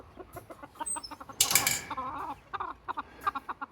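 Backyard chickens cluck in quick, irregular bursts close by, with a sudden flurry of louder squawking and rustling midway through.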